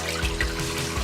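Water poured into a cooking pot for a batch of shrimp and grits, a steady close trickling splash with no voices over it.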